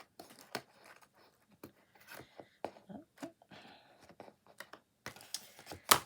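Scissors snip paper while a page is assembled in an art journal. Irregular sharp clicks and short cutting strokes come close-up and fairly quiet, with scattered pauses between them.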